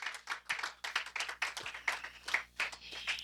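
A church congregation at a prayer day claps in praise, a quick run of sharp handclaps that is moderately near and carries a loose, lively rhythm without any speech.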